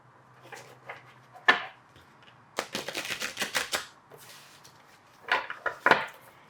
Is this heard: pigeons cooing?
no